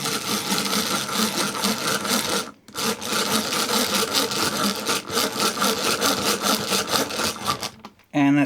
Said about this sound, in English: allowed us to drill right through the jarrah this time and halfway into our backer block there